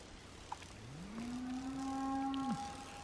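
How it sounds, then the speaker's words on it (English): A single cow moos by a trampled pond in the hills, a long, near, rising-then-level lowing call lasting about a second and a half, heard alone over faint outdoor ambience. "A lot of moo cows up here,"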